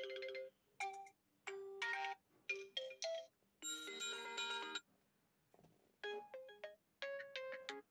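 An Oppo A31 phone ringtone plays a series of bright electronic chime bursts, starting and stopping repeatedly, close and clear with no talking.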